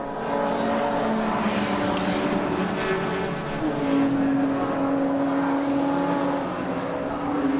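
Touring race cars at Brands Hatch roar continuously through Surtees, McLaren and the long right-hander at Clearways, engines droning loud and steady with rising pitch sweeps as the pack runs close together.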